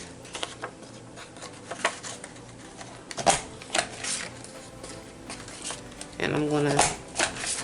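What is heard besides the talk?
small paper punch punching scrap white paper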